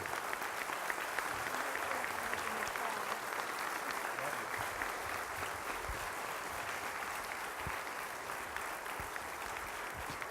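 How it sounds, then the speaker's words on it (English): An audience applauds to welcome Karol Mason as she comes up to speak, steady, sustained clapping from many hands, fairly faint and distant, holding at an even level with no talk over it. "giving her a warm hand clap and making her feel welcome this morning"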